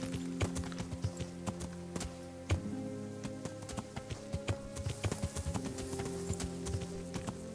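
A horse's hooves clip-clop at a steady walking pace in the video game Kingdom Come Deliverance, a continuous run of close, crisp hoof beats over a low ambient drone.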